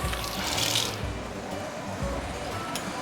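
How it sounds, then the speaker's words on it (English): Chicken stock pours into a pot of fish head curry, a continuous splashing rush of liquid with a few dull knocks beneath it, close and steady from start to finish. "Next thing, we are going to add in the chicken stock."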